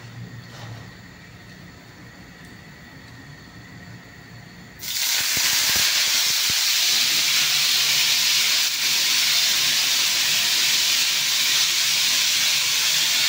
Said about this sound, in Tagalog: mag-umpisa na tayo mag-preto. Nahin natin itong makababad natin beef